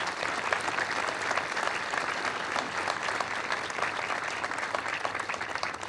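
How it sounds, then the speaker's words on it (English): An audience at a college student center ribbon-cutting ceremony applauds faculty and staff with steady, even clapping that holds at a constant level throughout. "Let's give all of our faculty and staff a big round of applause."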